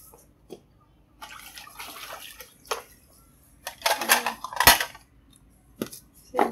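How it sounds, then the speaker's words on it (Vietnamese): Shredded green papaya is squeezed by hand to press out its water, giving scattered wet squelches and drips, with brief rustles and clinks of bowls between them. "Mình sẽ dắt bớt nước ra nha."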